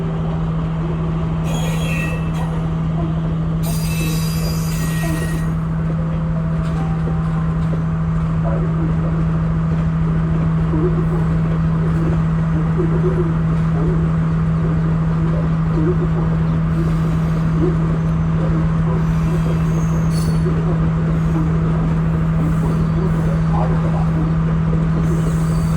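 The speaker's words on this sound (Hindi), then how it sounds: "ये वो ट्रेन गई जो कोलंबो से आगे किसी स्टेशन से आई थी।" A crowded train pulls out of Colombo railway station in Sri Lanka, with people hanging from its doors. It gives a loud, continuous rumble with a steady low hum and occasional high squeals of the wheels, and voices sound faintly under it.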